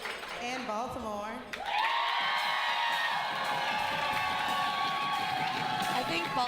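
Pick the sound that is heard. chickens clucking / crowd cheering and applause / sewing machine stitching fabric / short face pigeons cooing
crowd cheering and applause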